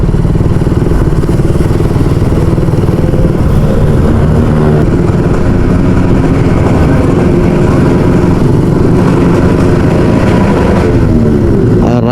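Loud motorcycle exhausts rev and idle close by, a continuous rough, throaty engine roar with rising bursts of throttle and some rattling clatter underneath.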